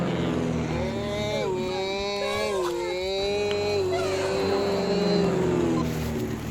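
A small toy airplane motor starts up and runs with a steady, rising and falling whine that shifts pitch over several seconds, loud and close, with faint talk in the background.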